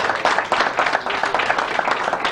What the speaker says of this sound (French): Est-ce qu'on peut les applaudir très très fort, s'il vous plaît?